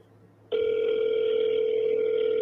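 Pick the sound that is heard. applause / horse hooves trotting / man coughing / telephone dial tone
telephone dial tone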